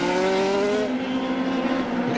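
Formula 3000 race cars scream along a track in Brazil, high-revving engines whining steadily with a pitch drop as one shifts or passes, loud and continuous throughout.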